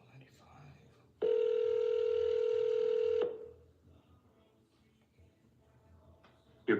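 Outgoing phone call ringback tone, one long steady ring lasting about two seconds, loud and close, followed by a quiet room with faint background noise.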